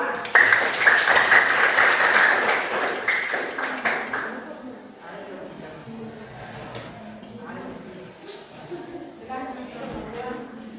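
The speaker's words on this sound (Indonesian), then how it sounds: "Kita berikan tepuk tangan untuk kelompok 2." Students in a classroom clap for a presenting group, a brisk burst of close, crisp applause for about four seconds that fades out, followed by people talking.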